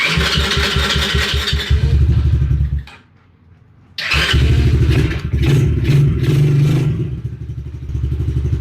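The engine of a Coolster 3050 go-kart chugs loudly and close up, cuts out into near silence for about a second, then fires back up and runs with a rough, clattering idle and small revs.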